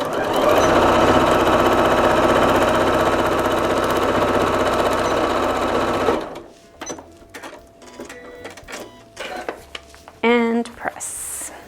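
A sewing machine stitches fabric in a continuous, loud, close whir for about six seconds, then stops, leaving quieter handling clicks and rustles.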